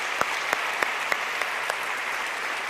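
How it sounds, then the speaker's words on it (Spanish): A church congregation applauding during an evening prayer service, a steady wash of clapping with a few distinct sharp claps standing out at regular intervals. "De un aplauso a la palabra de Dios."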